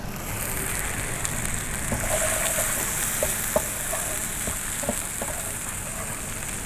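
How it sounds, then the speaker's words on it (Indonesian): Spices with lemongrass, galangal and bay leaves fry with a little coconut milk in a pan, giving a continuous hissing sizzle, with scattered light taps from stirring throughout. "Tumis lagi untuk matengin santannya."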